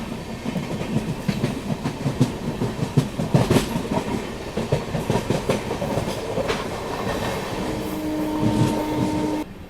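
Netaji Express running through the goods yard at Kanpur Central, heard from on board: loud, steady rumble with rhythmic clickety-clack of wheels over rail joints and occasional squeals, no talk.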